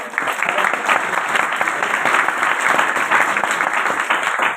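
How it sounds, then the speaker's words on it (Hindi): An audience at a motivational talk breaks into sustained applause, a dense, loud, even patter of many hands clapping together that carries on without a break for several seconds. "अब जो आ रहे थे उनके लिए तालियां हो सकती हैं।"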